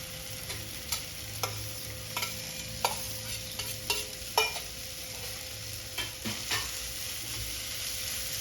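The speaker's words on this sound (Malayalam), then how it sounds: "ഇനി അതിലേക്ക് ഒരു ചെറിയ ക്യാപ്സിക്കം ചെറുതായി അരിഞ്ഞത് ഇട്ട് കൊടുക്കാം." Finely chopped capsicum sautés with softened tomato in a pan. A low, even sizzle runs beneath scattered scraping stirs of a spoon, heard close but fairly quiet.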